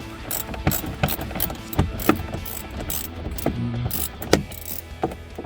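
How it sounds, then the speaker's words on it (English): Socket ratchet with a deep 7mm socket backing out bolts on a 2015-2020 Ford F-150: rapid clicking pawl strokes in short irregular bursts, close and clear, with no talking. "we're gonna remove the 2 bolts here. And I do recommend using a deep socket, and it is 7mm"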